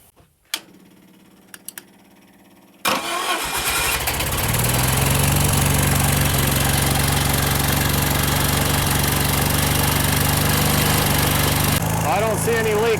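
The engine of a General Supply GS260 portable air compressor cranks with a few quiet clicks, then catches abruptly and settles into a loud, steady running drone that continues close by for the rest of the stretch.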